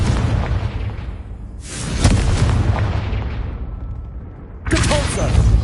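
Confringo spell blasts in the video game Hogwarts Legacy hit as three loud, booming explosive bursts, each fading into a rumbling decay before the next one strikes.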